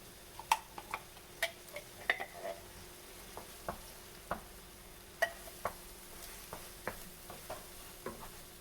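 Tofu scramble with drained Rotel being stirred in a pan, giving a run of sharp clicks and scrapes from the utensil against the pan over a soft, steady sizzle, with no voices.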